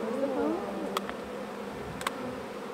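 Honeybees buzz around an open hive frame with capped comb, eggs and pollen-laden workers, a steady dense hum close by with a few sharp clicks and taps mixed in.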